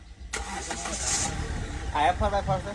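A 4x4 car engine turns over and restarts after stalling, a short cranking burst followed by a mid-pitched running rumble, while people talk over it nearby.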